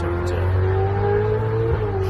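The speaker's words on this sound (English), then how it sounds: "sounds a hearty engine" A car engine idling steadily at a campsite, a low continuous hum with a faint tonal whine throughout, close and fairly loud with no talking.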